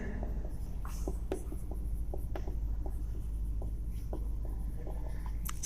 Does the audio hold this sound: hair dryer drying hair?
no